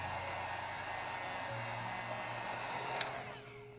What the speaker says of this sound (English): now I'm just running the heat over it one last time